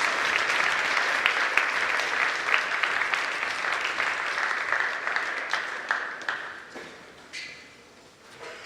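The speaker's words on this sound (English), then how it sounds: "How about a round of applause for those kids?" A large audience at a high school academic and fine arts awards ceremony applauds choir students with sustained, dense clapping that holds steady, then thins and fades to scattered claps near the end.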